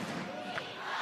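A volleyball crowd at a Japan versus Slovenia Olympic qualification match cheers loudly, a dense wall of voices that holds steady through the brief moment.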